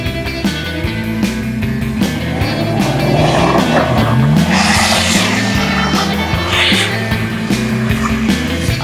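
A rear-wheel-drive BMW 325i E46 drifting on snow and tarmac, its engine droning loudly and steadily while tires scrub and squeal in long skids, with occasional revs rising and falling.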